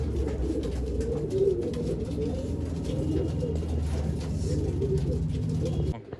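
Old-line pigeons kept for sale in Bangalore coo steadily in low, rolling repeated calls, close and continuous, with some faint background chatter mixed in.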